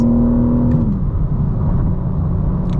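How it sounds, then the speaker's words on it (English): Stock BMW M4 CS driving with the windows up, giving a loud, steady cabin drone as a high engine tone falls away into a low rumble with road noise. "You'll be able to hear what the car is like with the windows up."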